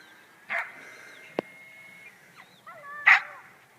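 A dog outdoors gives a few short, scattered barks and yips at moderate distance, with a sharp click between them and a thin whining tone underneath.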